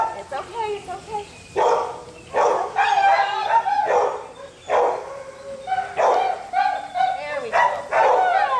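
Several dogs rescued from Korea bark and yip in loud, close bursts, with whines and overlapping yelps in an uneven rhythm across the whole stretch.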